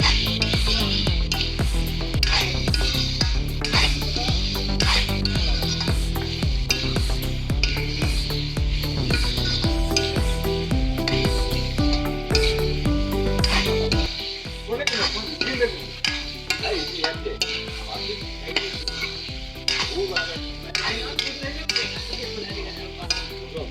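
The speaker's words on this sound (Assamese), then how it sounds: "এতিয়া মই সকলোবোৰ মিক্স কৰি ল'ম।" A pan of Assamese-style chicken curry ingredients is stirred and mixed over steady, continuous sizzling and scraping, with a sustained tonal backing throughout.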